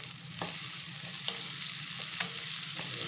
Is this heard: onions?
yes